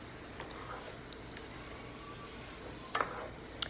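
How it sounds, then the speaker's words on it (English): Potatoes, smoked sausage and fresh green beans stirred in a pan, giving a faint, steady low sizzle with a few sharp utensil clinks against the pan near the end; no one speaks. "So we're just gonna mix all of this around"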